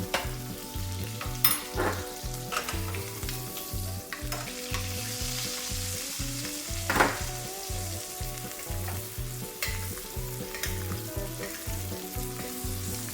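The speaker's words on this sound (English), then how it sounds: "It's going to fry the steak from both sides." Steak frying from both sides in foaming butter, a steady crackling sizzle broken by a regular rhythmic scraping or basting pattern, close and continuous with no talking.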